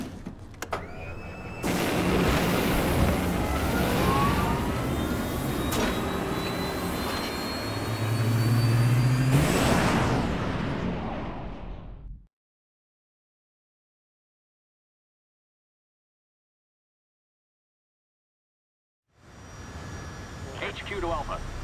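An airplane engine fires up in the Resident Evil 6 video game, a loud, steady roaring drone that swells over about ten seconds before cutting out, then resumes after a long silence.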